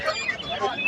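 Chickens cluck in short, overlapping calls at a crowded bird market. The busy din of the birds is close and fairly loud, with a voice in the mix.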